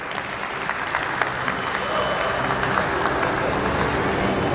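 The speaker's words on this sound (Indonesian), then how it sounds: "Kita kasih tepuk tangan dulu." An audience at an app grand launch event breaks into applause, dense steady clapping that grows slightly louder and holds through to the end of the moment.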